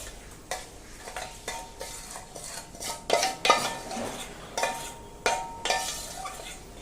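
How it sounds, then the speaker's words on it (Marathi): A jaggery and grated raw mango mixture is stirred in an iron kadai, with a metal spoon scraping and clinking against the pan in uneven strokes over a faint simmer. "आता या कढईमध्ये हे गूळ आणि कैरी याचं जे मिश्रण आपण घेतलेलं आहे हे घालून घेऊया याच्यात"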